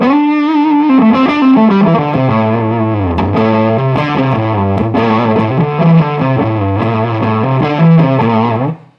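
Low notes on a guitar through a Bob Burt Multi-Drive distortion pedal, thick and fuzzy with a gritty, saturated tone, played as a continuous riff without pauses.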